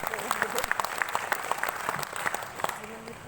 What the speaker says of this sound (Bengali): একটি গগনবিদারী করতালি আশা করছি